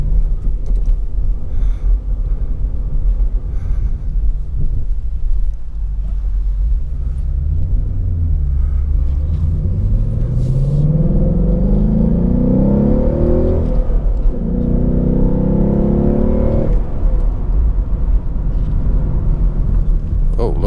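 A 2017 Ford Mustang GT California Special Convertible rumbles loudly while driving, its V8 rising in pitch through acceleration, easing off, then climbing again over heavy wind and road noise from an open-top cabin.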